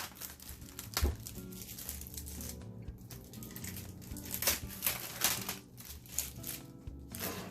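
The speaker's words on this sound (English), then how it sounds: "I'm doing bad removing the plastic of this." Plastic film is peeled and torn off a frozen lasagna in a paper container, giving close, irregular crinkling and crackling bursts with short pauses in between.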